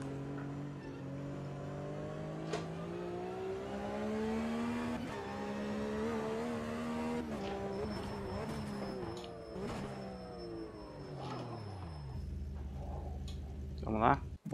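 A Porsche 3.8 class race car in the sim racing game Automobilista 2 holds a steady, droning engine note that rises and falls with throttle changes, then dies away near the end, with speech over it.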